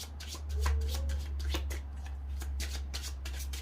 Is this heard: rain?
no